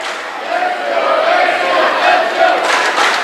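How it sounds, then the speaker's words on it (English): A high school volleyball crowd in a gym at Mount Carmel roars and cheers continuously, a dense wash of shouting voices that swells and stays loud throughout. "This crowd's getting energized."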